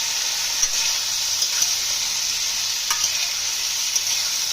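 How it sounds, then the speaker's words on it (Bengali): Continuous, even sizzle of ridge gourd frying in a pan, with a few faint ticks of stirring; no voices. "আমাদের ঝিঙেগুলো ভাজা ভাজা হচ্ছে"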